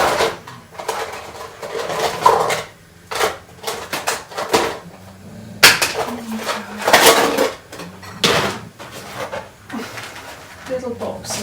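Kitchen rummaging for a little box and its lid, with loud clattering of dishes, containers and cutlery shifting in irregular bursts, while a person talks over it.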